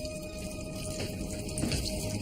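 Water runs from a tap in a steady, even stream, a soft continuous splash at close range with nothing else over it.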